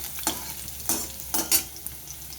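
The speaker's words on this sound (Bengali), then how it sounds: "রসুনটা আমি খুব লাল করে ভেজে নিয়েছি" Garlic frying in a pan until deep red for a taro dish, a low sizzle broken by three or four brisk stirring scrapes in quick succession, close and alone.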